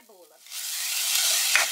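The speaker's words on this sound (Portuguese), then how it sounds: "Refoguei a cebola junto com o alho no óleo de coco." Chopped onion and garlic sizzle in hot coconut oil in a pan, a steady loud frying hiss that swells in after a brief quiet moment, close up with no talk.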